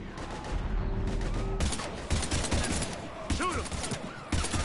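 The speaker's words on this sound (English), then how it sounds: "We're taking heavy fire." Firefight in the sci-fi shooter Mass Effect 3: bursts of rapid gunfire crackle and thud near and far, with brief gaps between volleys and voices calling out in the fray.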